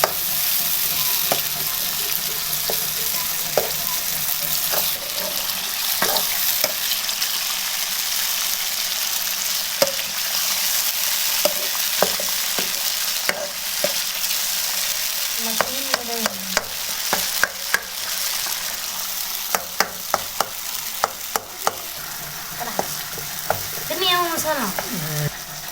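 Chicken karahi frying in a pan while being stirred, a constant loud sizzle with frequent scrapes and clinks of the spoon against the metal, and brief voice sounds near the end.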